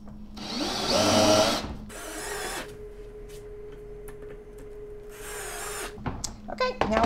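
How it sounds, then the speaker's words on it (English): A power drill fitted with a countersink bit bores into wooden bed boards in three loud whirring bursts, with quieter workshop sounds in the gaps between them. "Now we've switched the bit to a countersink, and so we're just going to do that so that the screw will sink into the wood."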